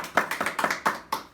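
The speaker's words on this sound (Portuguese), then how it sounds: "Pode aplaudir o Senhor." A church congregation claps, a handful of distinct sharp claps in an uneven rhythm, close and clear without any voices.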